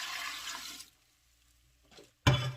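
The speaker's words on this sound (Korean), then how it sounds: "이거 쌀뜨물을 이렇게 부어주세요." Rice-rinsing water pours and gushes over dried radish greens in a pot, a close splashing rush that stops, then resumes loudly in a short burst, with no talking.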